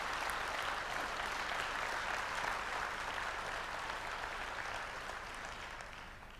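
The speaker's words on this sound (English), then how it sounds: "Let's give him a big round of applause, Mr. X. Maughan." Dense, continuous applause from a crowd, steady and loud before gradually fading slightly at the end.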